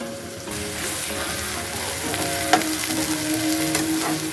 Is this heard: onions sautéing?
yes